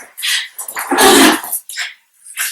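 Puppies playing indoors, giving short yips and barks in quick, uneven bursts, close and fairly loud, with no speech.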